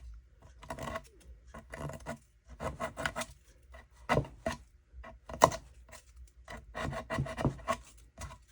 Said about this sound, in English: I could take a little emery board and just run it through there